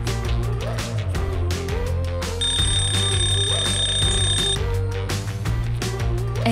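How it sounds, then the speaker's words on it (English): A desktop companion robot sounds a countdown timer alarm, a steady electronic beeping tone lasting a couple of seconds, layered over loud continuous background music. "He can set a countdown timer to help you track with your work."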